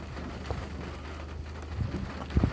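Steady rain falls during a thunderstorm with frequent lightning, a broad even hiss of drops with a few low thumps or rumbles near the end.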